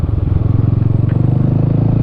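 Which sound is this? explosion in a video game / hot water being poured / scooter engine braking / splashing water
scooter engine braking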